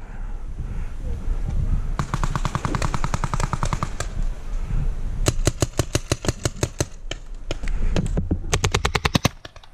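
Paintball markers fire during a team deathmatch game outdoors, in long rapid bursts of sharp pops separated by short gaps, loud and close, with faint voices in the background.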